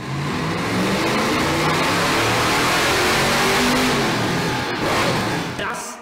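A car engine revs hard on a chassis dynamometer power test stand, a loud sustained roar that swells and holds for several seconds before dropping off, with some voices mixed in.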